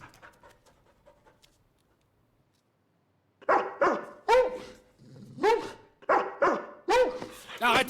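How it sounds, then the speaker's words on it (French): Several loud dog barks and yelps close by, coming in quick bursts after a few seconds of faint panting and near silence. "Arrêtez d'aboyer, sinon je vais vous donner à d'autres personnes."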